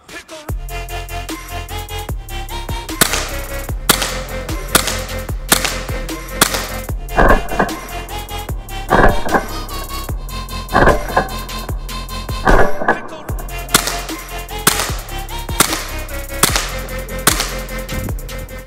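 Ten sharp, snapping shots from a KWC 24/7 blowback CO2 air pistol, fired at a target 10 meters away at a steady pace several seconds apart, loud and close, with a mechanical ring between them.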